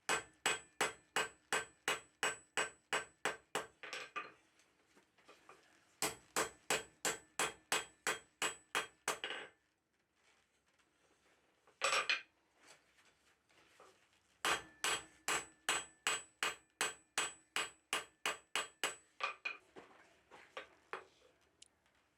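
A hammer strikes a hot 1/2-inch square steel bar on an anvil, forging it into a tong blank in three rapid bursts of about a dozen ringing metallic blows each, separated by pauses with a few scattered knocks.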